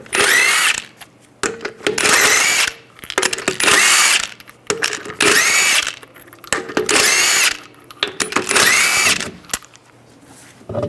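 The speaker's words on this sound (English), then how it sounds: "We're going to remove the wheel, use a 22mm socket," An impact gun zips lug nuts off a Buick Enclave wheel, sounding as six loud bursts of whirring and rattling in quick succession with brief pauses between them.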